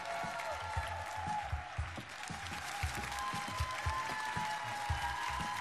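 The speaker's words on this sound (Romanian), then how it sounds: "Aplauze!" Television studio audience at X Factor Romania applauding: a sustained, even wash of many hands clapping and crowd noise, moderately distant, with a steady tonal hum underneath.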